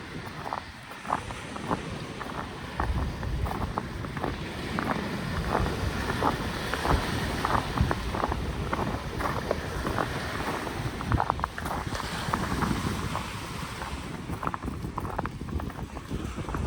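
Strong, cold wind buffets the microphone outdoors in a steady rough roar with gusty peaks and irregular thumps throughout.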